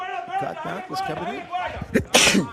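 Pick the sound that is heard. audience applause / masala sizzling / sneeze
sneeze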